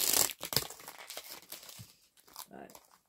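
Tape being torn off a DVD case, giving a run of crinkling, ripping bursts that are loud at first and then come in uneven, scratchy spurts, with speech at times.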